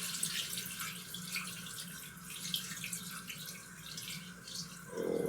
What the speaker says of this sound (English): Now, gonna add the chicken broth